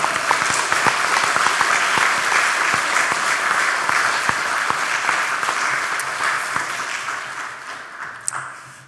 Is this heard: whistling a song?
no